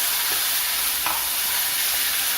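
Seer fish (vaala) pieces frying in a nonstick pan over moderate heat, a constant dense hiss of oil with a few faint spatters, close and steady throughout.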